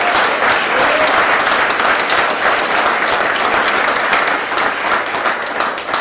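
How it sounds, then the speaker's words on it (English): Sustained applause from an audience gathered for an evening history award ceremony, dense and steady throughout, loud and close, with no voices over it. "Give yourselves, please, and the organizers a round of applause for doing that"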